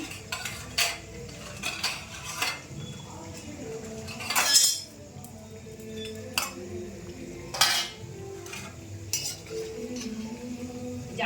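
Utensils clink and scrape against pots and pans while potatoes fry in a home kitchen during a puja cooking day, a series of sharp close metallic taps over a low, faint background, with a voice briefly present.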